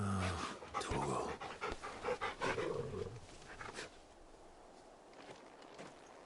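A large dog named Torgal pants heavily in a video game, close and loud with rapid breathy huffs, then quieter, slower panting trails off toward the end.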